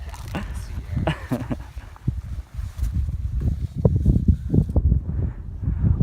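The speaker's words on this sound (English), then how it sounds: "Oh, it's windy." Gusty wind buffets the microphone in low rumbling bursts, with some rustling and a voice speaking briefly over it.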